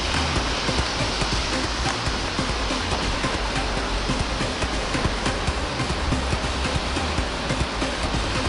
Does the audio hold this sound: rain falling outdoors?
yes